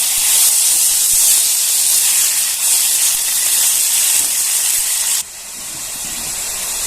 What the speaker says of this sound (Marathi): जिरे छान तडतडले लसूण घालून घेऊया भाजी घालून घेऊया